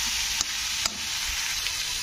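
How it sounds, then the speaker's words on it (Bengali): Bottle gourd greens cooking with poppy seed paste in a pan give a steady sizzle, with a few soft scrapes as the vegetables are stirred. The sound is close and continuous, and there is no talk. "পোস্ত বাটা দিয়েও একটু নাড়তে হবে, সবজিগুলোকে একটু নাড়াচাড়া করে দিতে হবে"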